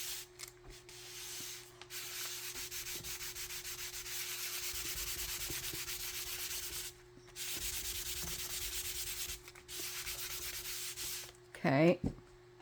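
Steady, close rubbing strokes scrape across watercolor paper in long sustained passes, broken by brief pauses, with a small clatter near the end and no talking.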